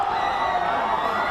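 A loud street crowd of college students celebrates a basketball win at a downtown corner at night, a dense wash of cheering and whooping voices heard briefly and steadily.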